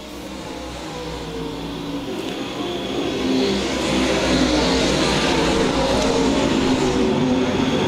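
Dirt track race cars roaring at Lakeside Speedway, a dense engine drone that swells louder as the pack approaches and holds steady.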